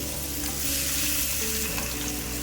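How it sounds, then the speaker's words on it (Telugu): Onion frying in melted butter with cumin seeds gives a steady, close, loud sizzle with faint crackles, continuous and without talk. "బటర్ కరిగిన తర్వాత కొంచెం జీలకర్ర వేసుకోవాలి. జీలకర్ర వేగిన తర్వాత ఆనియన్ వేసుకోవాలి."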